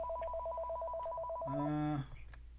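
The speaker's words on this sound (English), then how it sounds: "Phones are ringing." A telephone rings on a live sports call-in show, an electronic trilling ring pattern followed by a brief lower tone as the call connects, clear and moderately quiet.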